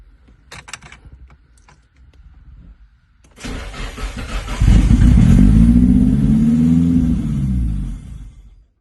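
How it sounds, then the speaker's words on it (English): A Nissan S13 engine, with a fuel problem and brake cleaner sprayed into the throttle body, cranks after some quiet clicks, then fires and roars loudly for several seconds before dropping off. "I gave it a spritz of brake cleaner in the throttle body, and it fired for a second."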